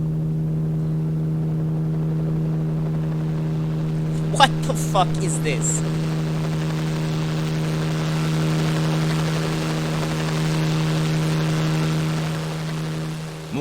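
A helicopter in the video game Corpse Party Blood Drive gives a steady, droning engine hum that runs the whole time, with a person talking over it partway through.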